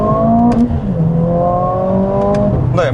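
A Mercedes-AMG CLA 45 S with a 2-litre four-cylinder turbo engine pulls away from a standstill without launch control, its engine note climbing loud and close, dipping at a shift and rising again.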